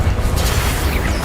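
An Incendio fire spell from Hogwarts Legacy bursts out as a loud, dense rumbling whoosh of flame that holds steady for about a second.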